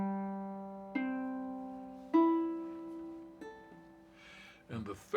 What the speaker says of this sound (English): And here comes the second uke we did.